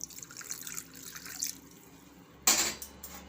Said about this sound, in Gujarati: હજી આપણે થોડુંક ઠંડુ પાણી નાખશું આમાં